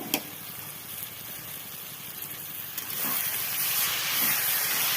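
Spinach and fenugreek leaves hitting a hot, spiced pan for aloo methi palak paratha filling, giving a steady hiss and sizzle that swells louder in the second half.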